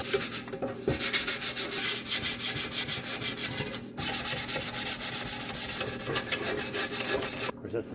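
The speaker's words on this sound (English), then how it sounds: "Still sanding it." Abrasive sanding on a car's air cleaner part, steady rapid back-and-forth rubbing strokes in close-up with two brief pauses, no talking.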